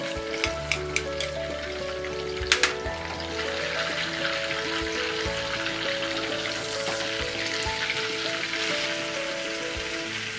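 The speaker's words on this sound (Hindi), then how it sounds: "2 टेबलस्पून ऑयल, तेल और बटर गरम हो गया है। अब हम इसमें डालेंगे ये 1 टीस्पून जीरा" Cumin seeds sizzling in two tablespoons of hot oil and butter for paneer bhurji, a steady crackling fry that swells after a couple of sharp clicks near the start, close and with no voices.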